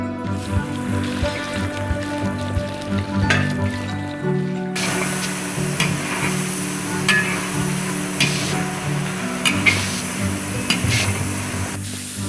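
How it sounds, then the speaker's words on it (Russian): Shrimp sizzle and crackle steadily in a hot pan, getting louder partway through, with occasional stirring and spattering, under quiet background music. "Жарятся креветочки на раз, два, три."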